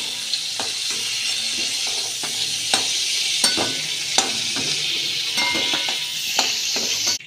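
Cauliflower florets fry in oil in a pan until browned, with a steady hiss of sizzling broken by regular scrapes and clinks of a spatula stirring against the metal.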